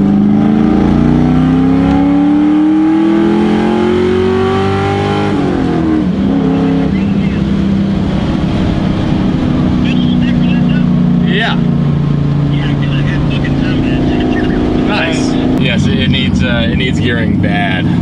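A tuned Ford Mustang pulls hard down a road in Mexico with 29 degrees of timing up top, its loud engine rising through gears in long sweeps, with a shift around midway and people talking over the roar.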